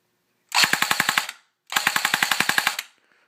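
An Echo 1 PKM airsoft machine gun, battery-powered and fired without its barrel, lets off two rapid bursts of roughly ten shots each, loud and close, with a short pause between them and no talking.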